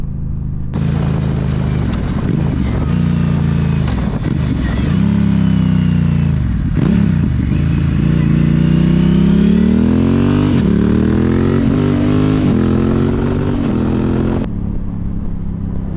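A Honda CMX1100 Rebel with a manual gearbox slows under exhaust braking. Its engine note rises and falls as the rider blips and shifts down, a loud, close, continuous rumble with swooping revs, then cutting off near the end.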